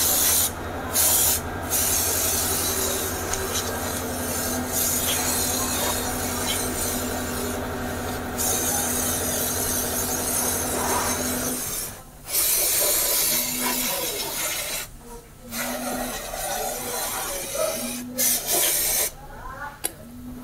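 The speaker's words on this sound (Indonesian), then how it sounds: "Nah ini kita lap dulu atau kita semprot pakai cairan pembersih" Hissing bursts from a spray can or sprayer as cleaning fluid is sprayed onto a car engine, long continuous sprays then shorter intermittent puffs separated by pauses, close and fairly loud.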